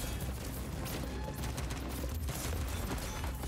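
Explosives and gunfire in the Dreams PS4 first-person shooter game roll on without a break, forming a steady distant barrage of rapid bursts.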